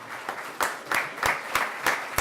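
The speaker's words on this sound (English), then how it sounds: "A round of applause for the girls for what they did here." An audience at a town board meeting breaks into applause, a brief round of close, fairly loud clapping that grows into steady, rhythmic claps.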